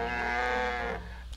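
A single drawn-out moo from a cow in the farming video game My Time at Portia, loud and close, fading after about a second with no talk over it.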